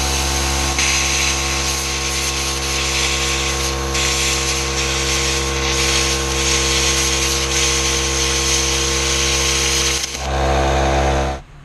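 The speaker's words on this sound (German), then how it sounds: "Ich habe 8 mm Edelstahl problemlos schnell in einer guten Geschwindigkeit geschnitten." A small inverter plasma cutter slices through 8 mm stainless steel with a loud, continuous hiss and steady hum for about ten seconds, then a short surge and cutoff.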